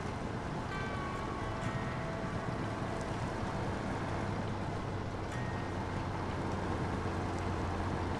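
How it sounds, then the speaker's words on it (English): A boat's outboard engine misfires and coughs while the boat creeps over a rocky ledge under the water, its uneven low drone running steadily beneath wind and lapping water. "Hear the engine coughing and spluttering and farting?"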